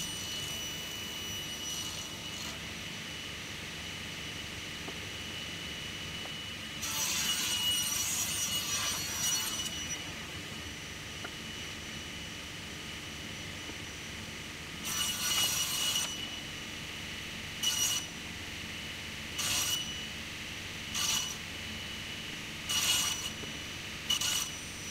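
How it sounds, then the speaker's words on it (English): A drum sander works through slices of hard log wood in a workshop, a steady motor hum broken by repeated louder grinding bursts as each slice feeds through, some long and some short. "It took a while to run all these through the drum sander."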